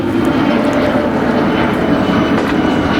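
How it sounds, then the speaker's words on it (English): An airplane passing overhead outdoors in Playa del Rey, Los Angeles, a loud, steady engine roar holding for a few seconds with no talk. "Another airplane over there."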